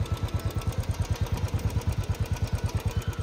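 Worn Royal Enfield Bullet motorcycle engine with piston slap after 27,000 km, running with a steady, rapid, heavy knocking thump at close range, loud and alone with no talk.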